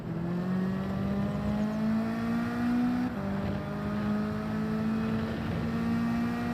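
A race car engine in Gran Turismo 7 revs loud and steady throughout, its pitch climbing through a gear and dropping at a shift before rising again, with no talking.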